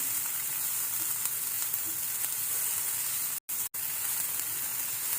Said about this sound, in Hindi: बहुत ज़्यादा हमें नहीं भूनना है, बहुत ही हल्का सा हमें सिर्फ भूनना है